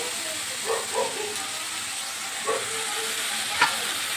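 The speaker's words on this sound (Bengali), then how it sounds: "এইগুলো আমি ভাজা হবে আর আমার পেঁয়াজও ভাজা হবে একই সাথে" Sliced onions with a little salt fry in hot oil, giving a continuous soft sizzle with several brief scraping stirs at irregular intervals, moderately close and without talk.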